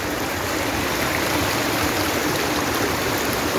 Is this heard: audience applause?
no